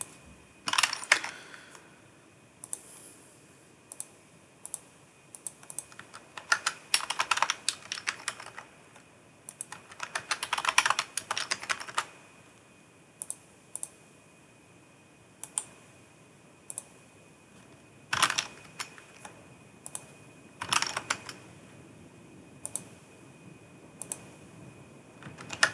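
Keys on a computer keyboard clack in quick irregular bursts with short pauses, close and fairly quiet, as a user name is typed during a Windows Server setup.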